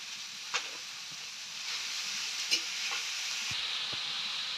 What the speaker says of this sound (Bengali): সব মশলার সাথে বাঁধাকপিগুলো ভালো করে মেরে তুলে নিলাম